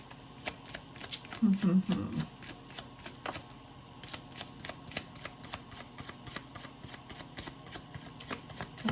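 Small witch-themed tarot cards are shuffled in quick, crisp riffling bursts that repeat through the whole stretch, with a brief murmur of voice early on.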